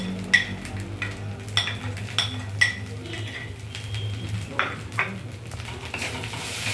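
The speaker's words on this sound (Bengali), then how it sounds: "সেটা মা ভালো করে নেড়ে নিচ্ছে ড্রাই মশলাগুলোকে দিয়ে" Dry ground spices — turmeric, cumin and red chili powder — being stirred in a bowl while making cheesy chicken bread pakoras, with a series of light scraping clinks and taps of a spoon against the bowl at an uneven pace, close by and moderately quiet.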